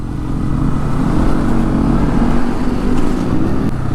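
Steady engine drone of a motorcycle on a ride toward Rishikesh, continuous and fairly loud with road rumble, no voices.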